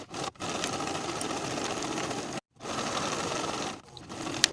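A sewing machine stitches a seam in vest fabric with a steady, rapid whirring run, stopping briefly twice before starting again, close and clear.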